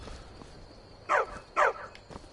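A dog in a PS4 video game gives two quick, sharp barks about half a second apart. The barks are fairly close and stand out clearly above a quiet background hum.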